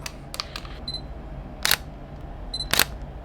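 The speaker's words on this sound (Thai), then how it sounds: "อันหนึ่งที่ผมชอบก็คือเสียงชัตเตอร์" Two crisp Sony ZV-E10 mirrorless camera shutter clicks, each a sharp double snap, about a second apart, preceded by faint beeps and small mechanical ticks in a quiet room.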